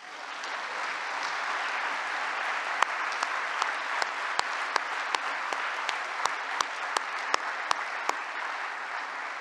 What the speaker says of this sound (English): you would give them a huge round of applause,